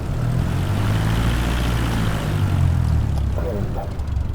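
A Cessna 172 propeller engine at St Thomas Airport, Ontario, Canada, drones steadily up close and grows slightly louder partway through as the throttle opens.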